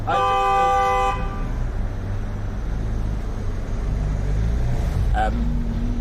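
A loud car horn honks in street traffic, sustained for about a second, then a second shorter toot follows later over continuous engine rumble and road noise.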